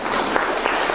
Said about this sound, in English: I think that deserves a round of applause too